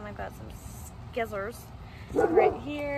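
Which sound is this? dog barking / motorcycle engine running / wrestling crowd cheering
dog barking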